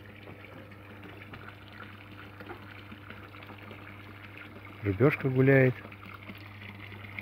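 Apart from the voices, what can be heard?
small garden pond waterfall trickling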